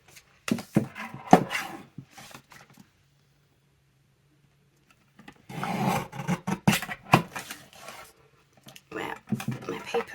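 Paper being trimmed for coin envelopes, heard as bursts of scraping and rasping cuts at close range, separated by a quiet pause, with the person talking in between.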